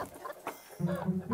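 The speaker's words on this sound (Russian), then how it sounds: "Куры." Chickens at the livestock yard of an old frontier fortress give a short, close run of clucks that grows louder in the second half.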